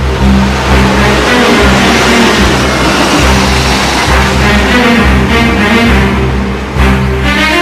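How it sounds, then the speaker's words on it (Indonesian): A car engine runs steadily and loudly while the car drives past close by, with a continuous low rumble and a brief lift in revs. No one speaks. "Itu pasti mobil Papa Vien."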